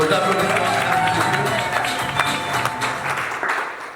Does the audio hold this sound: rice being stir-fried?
no